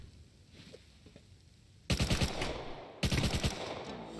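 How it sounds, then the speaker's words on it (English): Automatic gunfire in a video game, arriving as two loud, sudden bursts of rapid shots with a brief gap between them, following quieter ambient game background. "Who's shooting?"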